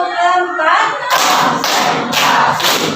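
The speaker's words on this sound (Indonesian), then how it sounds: "Tepuk 4." A voice speaks briefly in a classroom, then the students break into rhythmic unison clapping, several quick close bursts in a patterned beat.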